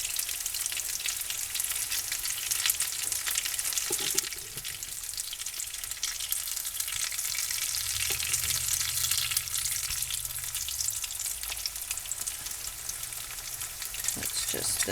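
Potatoes frying in a pot, giving a dense, constant sizzling hiss at steady loudness for the whole stretch, with faint clinks and a low hum underneath.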